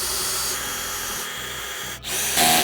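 A power drill driving screws to tighten up an Output sidecar cabinet, a steady whirring close by that cuts out briefly, then resumes louder, with no speech.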